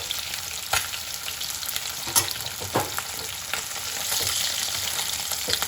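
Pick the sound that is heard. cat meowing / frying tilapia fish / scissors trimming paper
frying tilapia fish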